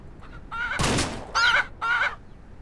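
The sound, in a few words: roosters clucking in Ranch Simulator video game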